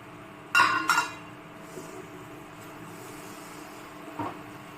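A metal lid lifted off a cooking pot of steamed vegetables in a home kitchen gives two quick clinks close by, then quiet bubbling with a faint later tap.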